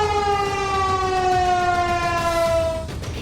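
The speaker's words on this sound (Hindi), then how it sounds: "प्रशासनिक भवन, पुलिस मुख्यालय, फायर स्टेशन जैसी जगहों पर लगे सायरन बजने लगेंगे" A civil defense siren on administrative, police or fire station buildings in Jammu during a mock drill wails in a loud, sustained tone that sags slightly in pitch before cutting off near the end.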